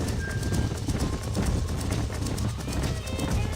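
A horse gallops in Red Dead Redemption, its rapid hoofbeats drumming loud and continuous over a dense game soundscape.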